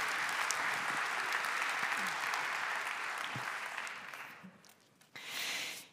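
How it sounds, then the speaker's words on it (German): Audience at an innovation congress in Baden-Württemberg bursts into sustained, dense applause that fills the room, then thins out and fades before a brief final swell. "Ein Applaus. Applaus, kommen Sie auf die Bühne."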